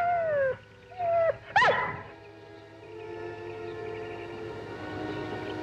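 An injured dog whimpers and howls in a rising, wavering cry, with a few separate plaintive calls and then a longer sustained howl, close and clear with no talking.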